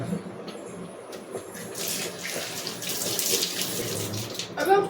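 Water runs steadily from a tap, a continuous splashing flow with some surging and clattering, close by.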